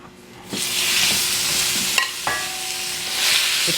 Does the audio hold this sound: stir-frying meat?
yes